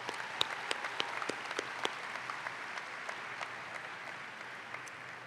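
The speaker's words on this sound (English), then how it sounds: "Let's have a round of applause for all of those dedicated individuals." Audience at the South Brunswick High School 2022 graduation ceremony clapping steadily, a dense, fairly distant applause that holds at an even level with a few sharper claps near the start.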